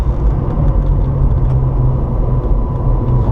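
A Porsche 997 Targa 4S on the Circuit de Bresse gives a steady, loud engine rumble with road and wind noise throughout, heard close from inside the car with no change in pace and no voices.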